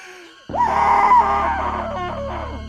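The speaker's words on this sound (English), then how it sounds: "I shall now proceed to let out my suppressed scream of horror as muffled by a pillow" A suppressed scream of horror muffled by a pillow bursts out suddenly after a moment of quiet, then holds as a long, strained, wavering wail before trailing off at the end.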